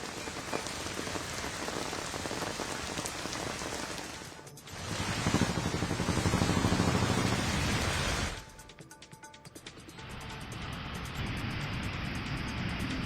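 Light drizzle falls in Thane as a steady, close patter of raindrops on surfaces, briefly heavier in the middle before easing back to a quieter, even hiss, with no one speaking.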